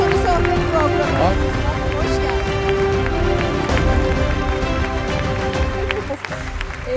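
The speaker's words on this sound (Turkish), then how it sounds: "Merve Yıldırım alkışlarla." An awards-show audience applauds and cheers as a host is called up, a dense clatter of clapping under a loud announcer's voice.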